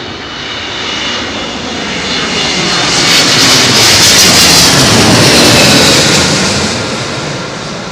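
An airliner landing on runway 27L at London Heathrow Airport sends a loud, broad jet roar that swells as it passes close overhead, peaks, and then begins to fade.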